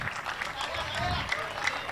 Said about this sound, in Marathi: जोरदार टाळ्या वाजल्या पाहिजे यार.